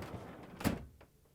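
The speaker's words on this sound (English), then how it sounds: "and pull out the freezer door." An LG/Kenmore French-door refrigerator's freezer drawer is pulled out, giving one short, dull thunk with a faint follow-up knock, close and fairly quiet in a room.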